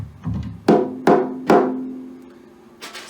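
A snare drum with the snares switched off, hit three times at a steady pace and once more softly, each stroke a dry, ringing tonal thump with a lingering hum and no rattle, close and alone.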